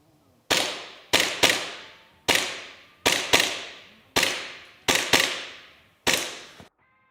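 Eight sharp shots from an Orion No.2 Combat replica pistol fired at a small target and a metal plate, loud and close, spaced irregularly with some quick pairs, each crack trailing off in a short decay, no talking.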